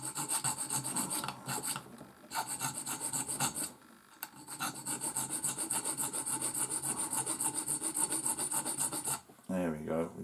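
A metal file rasps against a crocodile lead clip in fast, steady back-and-forth strokes, close and loud, with brief pauses, ending in a short different scrape.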